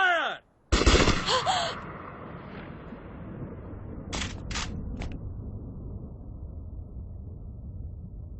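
Gunfire in a Hindi movie scene: after a brief silence, a loud blast booms and rings out, and a few sharper shots crack later, each fading into a low rumbling tail.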